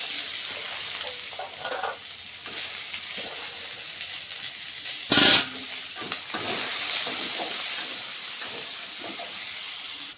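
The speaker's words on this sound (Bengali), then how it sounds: "মটরশুঁটিগুলো একটু ভেজে নেব" Green peas fry in hot oil in a kadai, giving a steady, close sizzle and hiss with a short, louder burst of stirring or clatter partway through. Nobody speaks.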